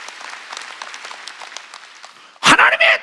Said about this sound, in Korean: 박수로 하나님께 영광 돌렸습니다.